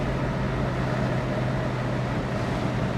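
A 1970 Ford Mustang Mach 1 cruising in fifth gear at about 2,000 RPM, its engine a steady, loud low drone and rumble that holds constant throughout with no talking.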